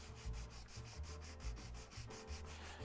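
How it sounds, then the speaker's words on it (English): Sandpaper rubbed back and forth over a model railroad part at a workbench, a steady rhythmic scraping of repeated strokes, close and fairly loud, with no voices. "I might need to get a higher grit sandpaper so that I'm taking a little bit more off."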